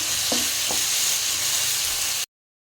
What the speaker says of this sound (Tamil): நல்லா கொஞ்சம் எண்ணெயிலே ஃப்ரை பண்ணிக்கலாம்